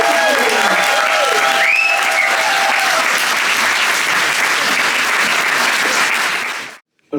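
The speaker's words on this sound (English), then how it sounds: "This frenetic applause." Frenetic, loud applause from an enthusiastic audience at a literary award event welcoming an author, dense sustained clapping with a voice speaking early on, then cutting off abruptly near the end.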